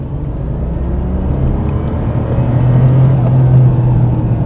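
A Lotus Carlton's twin-turbo 3.6 litre engine pulls hard from inside the cabin, a loud, steady low rumble and whir that builds slightly as the car accelerates, with no talk over it.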